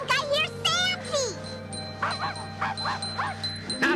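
A cartoon dog barks and yips in quick bursts, several sharp barks close by, with a faint jingling and some speech mixed in.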